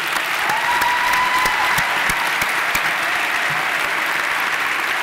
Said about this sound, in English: Let's give a round of applause for both our honorees,